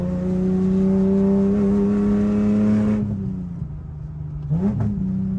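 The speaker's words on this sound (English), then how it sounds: "I did a custom exhaust for this car." A BMW E30 with a swapped 24-valve inline-six revs through a custom exhaust with a Vibrant 2.5-inch muffler and resonator. It holds a loud steady drone, cuts off sharply, then blips once more, with no talk over it.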